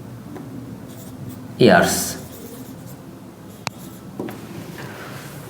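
A pen scratches briefly as an equation is written by hand during a finance lecture, a short burst of scribbling next to a man's spoken word.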